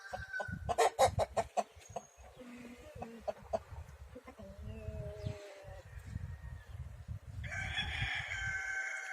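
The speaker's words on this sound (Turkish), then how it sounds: "Maşallah buralar hep horoz." Several village roosters crow loudly in turn at a free-range chicken farm, with clucking hens and other fowl calling in between, close by.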